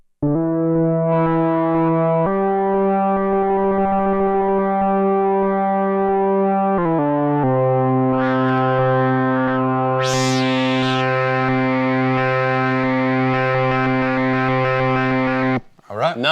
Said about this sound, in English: Okay, Falcone, just have a little bit of a jam on the grandmother and get a sound that you're kind of feeling